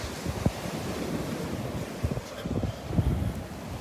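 Rough Gulf surf at a beach, a steady wash of waves with soft thumps of breaking water, muffled by wind buffeting the microphone.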